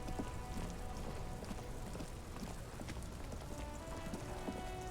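Rain pours in the video game Disco Elysium, a constant broadband patter of drops with scattered sharper taps and faint tonal hums beneath, steady and moderately loud throughout, no talking.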